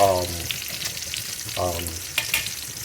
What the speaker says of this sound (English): I'm just searing it just to get a little flavor out of it